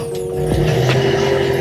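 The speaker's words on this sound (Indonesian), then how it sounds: "Kita coba starter teman-teman" A Toyota Corolla engine, just fitted with a new battery, cranks briefly and then catches, settling into a loud, steady idle close by.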